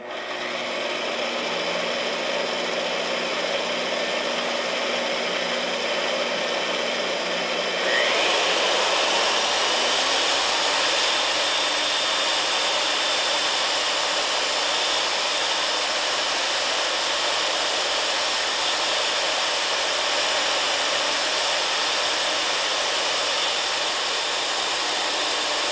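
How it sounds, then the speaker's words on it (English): A Milwaukee magnetic drill runs loud and steady; a quieter hum rises sharply as the motor spins up to a constant high whine that holds to the end, with no talk. "Alright, turn drill on."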